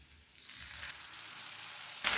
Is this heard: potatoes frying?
yes